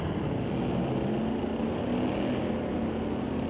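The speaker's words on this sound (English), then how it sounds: "Both cars out on the launch" Two drag racing cars, a Chevrolet El Camino and a 1990 S10 Blazer, launching side by side at a street-legal night at Mission Raceway Park, a steady distant engine roar holding through the run.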